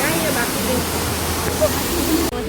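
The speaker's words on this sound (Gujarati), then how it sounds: "આ વોટરફોલ છે એ અહીંથી અહીંયા નીચે આવે છે" A waterfall in the mountains at Mussoorie, a steady broad rush of falling water heard from below, loud and continuous, with voices faintly audible over it.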